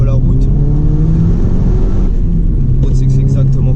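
Volkswagen Polo WRC Stage 1 fitted with a Golf R engine pulls hard, its loud droning engine note climbing, easing off and rising again, with someone talking over it from inside the car.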